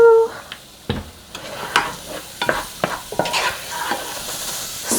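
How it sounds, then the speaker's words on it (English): Garlic and shallot dropped into a hot pot with oil, giving a soft sizzle broken by several sharp clatters and stirring scrapes, close to the microphone. "this is my garlic and shallot just going into the pot"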